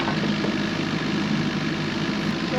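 A digging machine's engine runs near idle while the operator works a tree, a steady, loud, low rumbling drone with no change in pace throughout.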